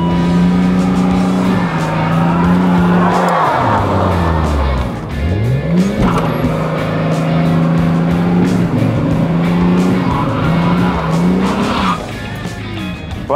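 Cheap old car, bought for 100 euros, revving hard as it climbs a rough hill off-road, engine droning loud and close with pitch rising and falling as the driver works the throttle, tyres scrabbling.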